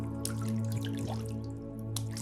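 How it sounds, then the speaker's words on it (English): Heavy water droplets splash steadily into a body of water during rain, close and continuous, with a few sharper plops standing out over a constant watery wash. "Heavy water droplets splashing into a body of water."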